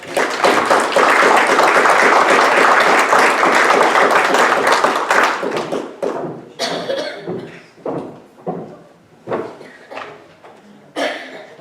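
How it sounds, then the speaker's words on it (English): An audience at a city council meeting applauds, a steady burst of clapping for about six seconds that then breaks into scattered thumps and a few separate claps fading out. "give you a big round of applause"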